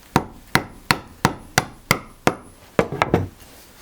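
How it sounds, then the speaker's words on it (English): A chisel driven into wood by mallet blows: about ten sharp, woody knocks at a steady rhythm, close and distinct, with a quicker cluster of strikes at the end. "giving it a good bash"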